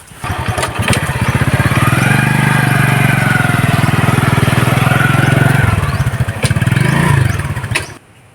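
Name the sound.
motorcycle engine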